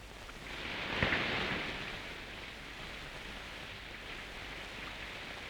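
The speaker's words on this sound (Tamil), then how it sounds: "ஜாலியா வெளியே போலான்னா மழை கொட்டு கொட்டுன்னு கொட்டும்." Heavy rain pours down in a steady, dense hiss that swells slightly early on and then holds even, with no voices.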